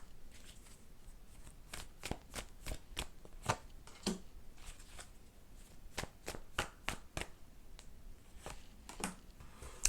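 Tarot cards shuffled by hand in a steady run of crisp riffling bursts and soft slaps, close and fairly quiet, with no talking.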